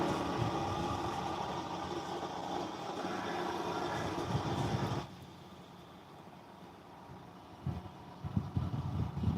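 A John Deere tractor engine in Farming Simulator 22 drones with a steady low rumble that cuts off sharply halfway through, leaving quieter ambience with a few soft knocks toward the end.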